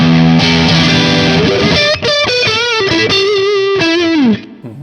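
Electric guitar, apparently a Telecaster, played through two stacked distortion pedals including a Blues Driver: loud, thick, saturated chords and single notes ring out for several seconds, then decay at the end, with no talking.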